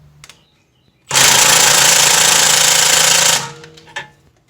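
A powered tool works on the rear trailing arm bushing of a BMW E46 330i ZHP, giving one loud, harsh, continuous rattling burst of about two seconds, close by and alone, with quiet before and after.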